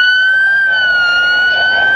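A safety siren on a roadside van, set off by an AI camera, wails in a steady, piercing high tone. It is loud and continuous, with faint traffic noise underneath.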